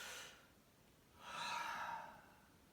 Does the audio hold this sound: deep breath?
yes